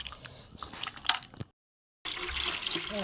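Hands squeezing and washing Kashmiri paneer in water, wet squelching and dripping for about a second and a half, a brief silence, then a rush of splashing water resuming.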